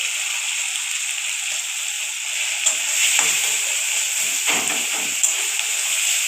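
Chopped onion and chilli sizzle steadily in a hot pan for pasta, with a constant frying hiss and a few louder crackles and stirring scrapes, close and alone without voices.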